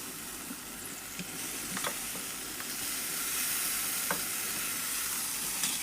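Chopped tomatoes sizzle in hot oil in a pan while cooking radish palya, a steady broadband frying hiss with occasional soft stirring ticks and no voice.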